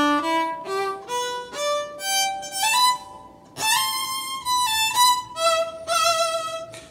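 A fiddle plays the solo from a country song, starting on low notes and climbing higher with bowed, sustained tones and some vibrato, alone and close.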